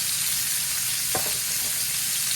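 Pork chops fry in a hot pan, giving a steady, close hiss that runs through the whole stretch, with a brief scrape of handling partway through and no voices.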